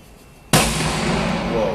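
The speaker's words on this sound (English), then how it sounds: "This guy's just lighting fireworks." Fireworks go off with one sudden loud burst in a hotel courtyard in San Pedro Sula early in the morning, followed by a long crackling roar that fills the air.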